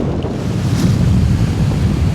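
Choppy waves slap and wash on the River Mersey in strong wind, with heavy buffeting wind rumble on the microphone, loud and continuous, no talk.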